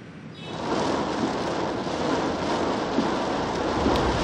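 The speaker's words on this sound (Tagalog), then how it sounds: "bumuhos ang malakas na ulan na may kulog at kidlat" Heavy rain with thunder pours down in a dense, steady roar that swells in the first moment and then holds loud and constant, with a low rumbling undertone.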